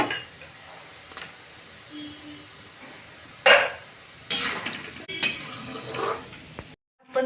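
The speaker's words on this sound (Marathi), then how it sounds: "कढीपत्ता तळून घेऊया" Peanuts and curry leaves frying in hot oil for a Diwali bhadang chivda, giving a low steady sizzle with several sharper bursts of crackling and stirring clatter, close and fairly quiet.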